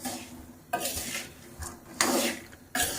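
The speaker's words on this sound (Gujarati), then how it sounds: "અને હવે એને હલાવશું એકાદ મિનિટ સુધી" Salted peanuts roasting in a pan are stirred, with scraping, rattling sweeps that come in three or four distinct strokes between softer stretches of faint sizzle, close and clear, with no talk.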